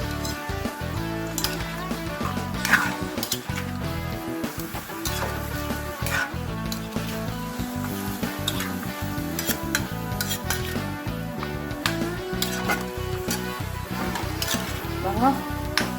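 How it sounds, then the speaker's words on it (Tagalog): Sugar is stirred into pork shank for hamonado, a utensil scraping and clinking against the pan over a continuous sizzle, busy and close, with occasional speech. "Haluin po natin."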